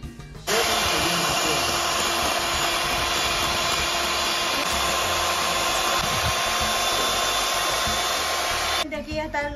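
An electric hand mixer beating egg whites for Salvadoran chilaquilas, a loud steady whirring motor that runs almost unbroken for about eight seconds before cutting off, with no talking.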